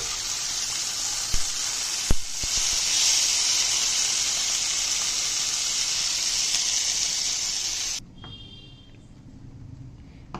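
Green pea paste poured into a hot ghee tempering gives a loud, even sizzling hiss after a couple of sharp knocks, then cuts off abruptly near the end, leaving a quiet room.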